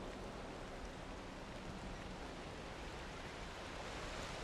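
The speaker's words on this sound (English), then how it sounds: "I wish it wasn't raining right now" Rain falling in the video game Valheim during the Ashlands update, a dense, steady hiss of rainfall at low level, constant throughout with no voices.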